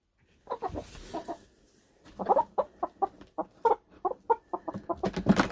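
Bantam chickens settled into a temporary pen cluck in quick, close bursts. A short opening run is followed by a pause, then a denser stream of clucks that builds toward the end.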